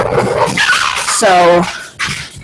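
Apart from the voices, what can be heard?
dogs making noise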